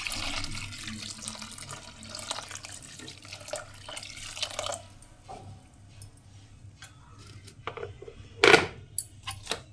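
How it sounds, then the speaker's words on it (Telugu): Water pours and splashes into a pan for several seconds, then quieter drips and clinks follow, with one sharp knock near the end. "ఇదిగోండి, వేడి చేస్తాను, నీళ్ళు వేస్తున్నాను"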